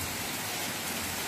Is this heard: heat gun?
no